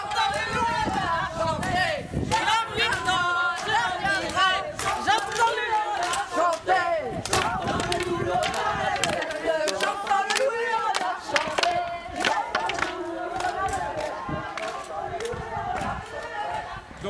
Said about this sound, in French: une foule dense qui assiste au bal